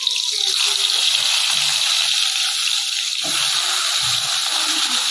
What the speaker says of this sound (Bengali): তো তারপরে দেখুন ওই তেলের মধ্যে এখানে দিয়ে দিচ্ছি পটলগুলো।